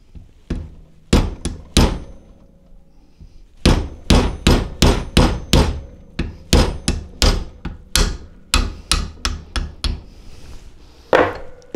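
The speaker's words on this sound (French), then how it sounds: "Donc, je vais taper dessus avec un bout de bois" A hammer strikes a wood block to drive out an old brake shoe on vintage brakes, starting with a few scattered blows, then a fast, loud run of close, woody thuds, a short pause and more rhythmic strikes.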